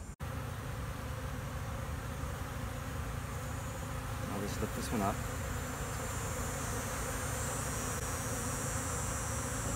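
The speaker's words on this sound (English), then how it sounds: "Bees are not very happy about this at all." Honey bees buzzing around a hive frame during a hive inspection, a dense steady drone close by throughout, with someone speaking briefly over it.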